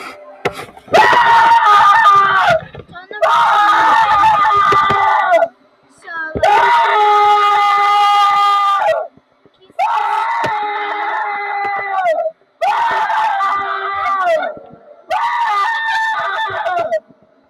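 Loud, high-pitched screaming in six sustained bursts separated by brief pauses, close and strained, with no other sound between the cries.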